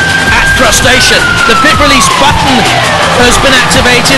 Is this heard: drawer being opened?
no